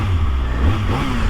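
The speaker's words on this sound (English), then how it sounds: "Kind of let you guys see what that sounds like here for a second. Stock exhaust isn't too bad." A 2023 Kawasaki Ninja ZX-6R running through its stock exhaust, a fairly quiet, close engine rumble with a brief rise in revs partway through and no talk over it.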